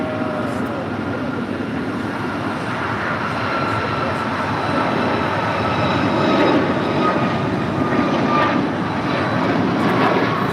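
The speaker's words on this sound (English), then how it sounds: "It's a 737 MAX 8." An Air Canada Boeing 737 MAX 8 jet departs LAX with a steady, broad engine roar that builds slightly louder over the span, with no talk over it.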